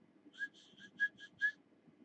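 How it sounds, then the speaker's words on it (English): A person whistles a quick series of about six short, clipped notes, close and clear, alone over a quiet background, to call fish. "Whistle them in."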